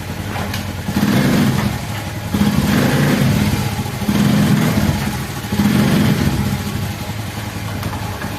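A motorcycle engine runs close by as gears are shifted, swelling in four regular revving pulses over a steady idle.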